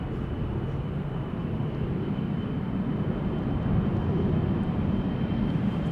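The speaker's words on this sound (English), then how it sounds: "This is KLM Flight 903 to Inverness, Embraer" KLM Embraer 175 regional airliner departing Amsterdam Schiphol, a steady, loud broadband jet roar that holds at an even level and swells slightly toward the end, with no voices.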